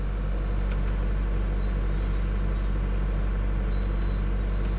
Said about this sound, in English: Just check that idle.